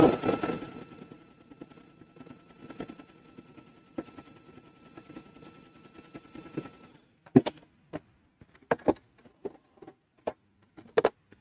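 A sewing machine stitches a decorative pattern with a twin needle, first as a steady fast whirring run, then as a series of separate, sharp ticking stitches with short pauses between them.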